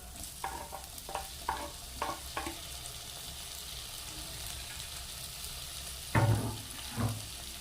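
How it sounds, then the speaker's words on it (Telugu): Cut tomatoes and carrot pieces fry quietly in a pan, a low steady sizzle broken by a few soft spatula scrapes and knocks, with a louder clunk near the end. "ఈ 2 కొంచెం మగ్గేంత వరకు వేపుదామండి."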